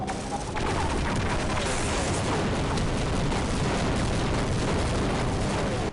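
Dense, continuous rapid-fire gunfire with heavy booming blasts, loud and sustained throughout with no pauses.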